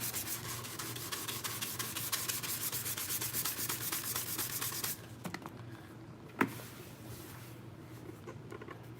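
Hand sanding along the seam line of a Mandalorian helmet build, a steady close rubbing scrape for about five seconds, then quieter scattered strokes with one sharp tap near the end.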